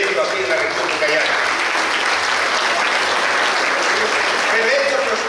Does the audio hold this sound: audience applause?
yes